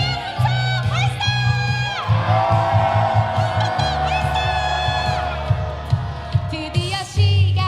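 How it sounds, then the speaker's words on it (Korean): Large outdoor rally crowd in Suwon shouting and cheering for Yoon Suk-yeol's impeachment, loud sustained roars and whoops rising in waves with shrill voices riding over the din. "윤석열 탄핵을 위한 함성 발사"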